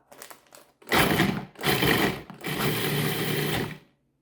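A food processor pulses a crumb mixture with melted butter and a 3-ounce package of jello: a few short whirs first, then three loud motor bursts separated by brief gaps, close and alone.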